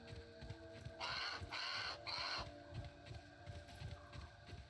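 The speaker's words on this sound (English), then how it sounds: "Okay, that is the crow." A crow caws in the survival video game Grounded, three loud harsh calls in quick succession near the start, then fading into a low rumbling game ambience with soft thumping underneath.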